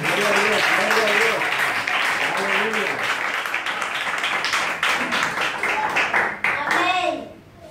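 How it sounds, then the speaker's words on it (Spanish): Church congregation claps strongly during a sermon, a dense burst of applause mixed with cheering voices, tapering off near the end. "Pero aplauso fuerte a Dios"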